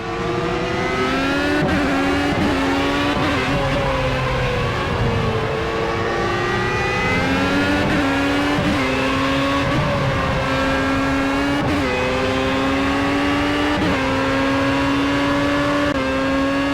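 A Formula A race car engine in Project CARS at Laguna Seca screams loudly and continuously, its pitch climbing through each gear and dropping sharply at every upshift, repeating through a long full-throttle run with no voices.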